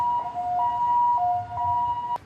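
An ambulance siren wails in a steady two-tone pattern, loud and near, cutting off abruptly at the end.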